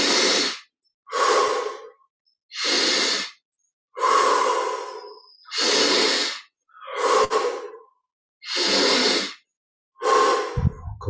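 Slow, deep breaths during a guided meditation come in about eight evenly spaced, loud, close, airy rushes, each separated by a moment of silence, with no voice over them.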